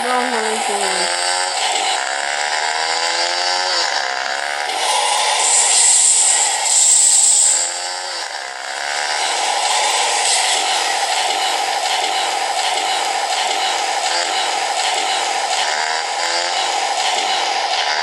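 A motorcycle being set up as a trail bike runs nearby, its engine revving and rising in pitch, then settling into a steady buzzing drone that swells briefly midway, while people talk over it.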